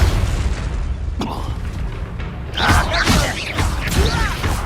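A Confringo explosive spell blasts in Hogwarts Legacy, a deep booming burst rolling under a voiced spell call, followed by a brighter crackling impact and scattered game sounds.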